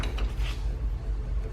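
Turning the tightening knob on a Thule EasyFold XT hitch rack, seating its wedge into a receiver hitch: a soft, continuous mechanical creak and rub with low rumble underneath, close up and without talk.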